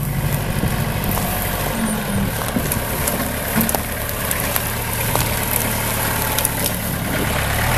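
A low tractor engine idles steadily and close by, a continuous rumbling drone with faint clatter and no speech throughout.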